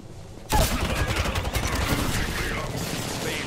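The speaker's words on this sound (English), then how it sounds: "Being shot at." Sustained gunfire in the video game Apex Legends, a loud burst opening a dense stretch of rapid shots that keeps going under voice chat.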